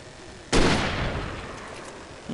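A single loud gunshot from the horror action game Alan Wake cracks out and rings off with a reverberant tail, followed by a faint onset of another sound at the end.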